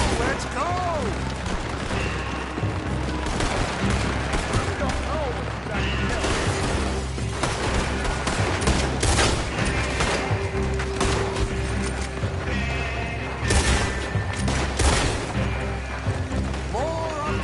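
Gunfire in a Red Dead Redemption 2 shootout: loud, dense volleys of shots and impacts keep up throughout, with game voices and music running underneath.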